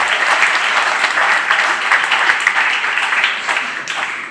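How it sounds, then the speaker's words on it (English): A crowd at a county fair opening ceremony claps for a young royalty member, dense, loud applause sustained throughout before thinning slightly near the end. "Can we give her a round of applause?"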